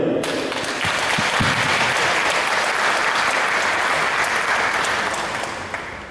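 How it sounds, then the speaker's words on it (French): Sustained applause from an audience at a church choir event, a dense wash of clapping that holds steady and eases off slightly near the end, with a few murmured voices at the start. "Donc je vais vous demander de l'applaudir."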